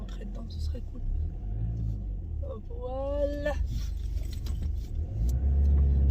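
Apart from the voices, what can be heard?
car manoeuvring into a parking space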